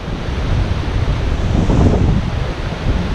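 A breeze gusts across a pedestrian bridge over a river in Skowhegan, Maine, producing a steady, loud rush of wind buffeting the microphone that swells briefly in the middle.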